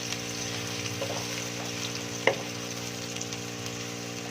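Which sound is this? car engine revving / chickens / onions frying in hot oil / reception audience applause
onions frying in hot oil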